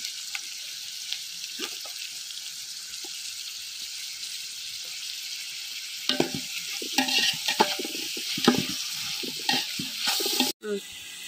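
Mint leaves sautéing in a pan for biryani, a soft steady sizzle that later picks up with several louder spoon stirs and scrapes near the end.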